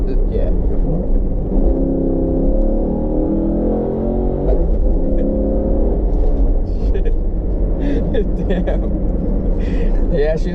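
A V8 car with a performance exhaust revs and accelerates with a deep, rumbling exhaust roar that stays loud and steady, while people talk over it.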